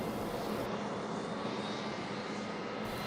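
Military strike aircraft climbing away from a target area after an attack on a SAM site, a steady, loud, continuous engine roar with no voices.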